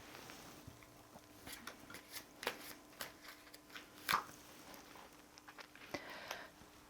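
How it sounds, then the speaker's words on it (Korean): Tarot cards are shuffled and drawn in a quiet room: soft, faint papery slaps and riffles in irregular bursts, with a few sharper taps as cards are set down. "자, 그럼 좋은 카드 한 장 더 뽑아 보겠습니다"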